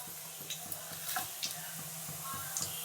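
Spices sizzle in hot sesame oil for a duck chukka curry, with a steady frying hiss and a regular, close knock of stirring running through the whole stretch.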